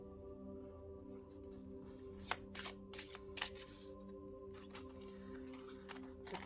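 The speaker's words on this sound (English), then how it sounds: "we'll just do like a quick shuffle just to show you how it shuffles" A thin deck of oracle cards being shuffled, soft papery riffles and taps heard close but quiet over a faint steady hum.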